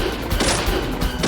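Rapid burst of gunfire in the video game Deadly Premonition, several loud close shots clustered within about a second, with no talk over them.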